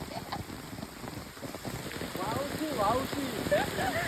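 Steady rain hisses across the whole clip in the Konkan countryside while a voice talks over it, growing slightly louder toward the end.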